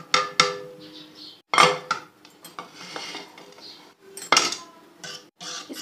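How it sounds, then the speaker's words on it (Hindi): A spoon clinks and scrapes against a bowl as boiled potato pieces are mixed into a dahi phulkiyan mixture, in irregular close bursts with short pauses between them. "इसको अच्छे तरीके से मिक्स कर लेंगे"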